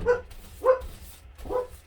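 A dog barks three times with short pauses between, at moderate volume and slightly distant, with nothing else going on.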